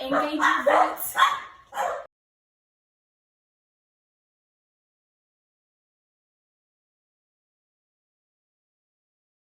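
Dogs yip and bark excitedly for about two seconds while a person talks over them, then everything falls silent.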